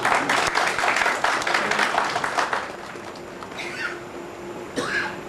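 An audience at a book release function in Allahabad Museum breaks into loud applause that fades after a few seconds, leaving quieter room sound with a few scattered claps and faint voices.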